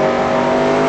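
Stock cars roar loudly and steadily through a tight corner in a NASCAR-style racing video game at Yas Marina, a brief, dense burst of engine noise up close.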